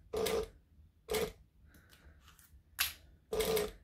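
Sewing machine stitching in short bursts, four loud mechanical runs separated by pauses, close and clear, with faint clicks between them.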